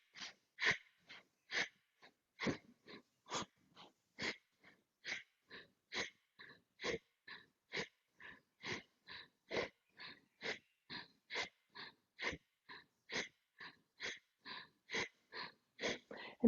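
Forceful rhythmic breaths during a fast, powerful yoga breathing exercise, about two sharp exhalations per second, close and loud, sustained evenly for the whole stretch with no talking.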